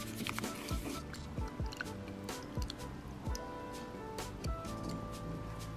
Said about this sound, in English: and then we just whisk